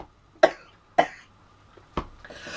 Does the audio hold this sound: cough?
yes